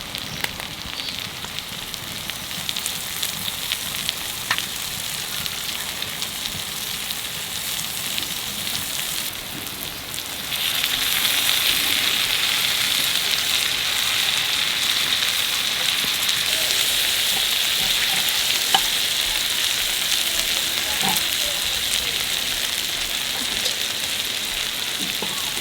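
Tiger prawns from the sea at Digha fry in a pan with a steady, close hiss and crackle. The sizzle stays constant, then grows noticeably louder and brighter about halfway through, with no voices.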